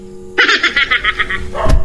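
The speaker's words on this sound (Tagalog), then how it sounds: "May aso talaga dito, pre ba?" A dog barks in a horror video game set in a frightening apartment: a rapid, loud run of about eight close barks, followed by a sharp thump.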